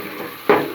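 Garlic-ginger paste hits hot oil in a pan alongside browned onions, bursting into a sudden loud sizzle about halfway through after a quieter stir, then frying steadily and close.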